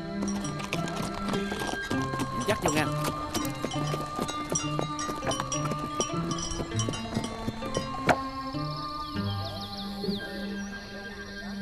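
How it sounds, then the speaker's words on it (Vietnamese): Horse hooves clip-clop steadily as a horse-drawn carriage moves along in an old Vietnamese rural drama, with a whinny and a few spoken words over the busy music. "xe ngựa."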